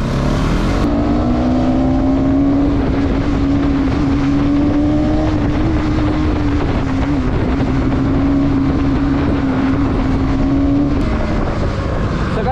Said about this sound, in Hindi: फॉर्चूनर वाला बंदा रेस कर रहा है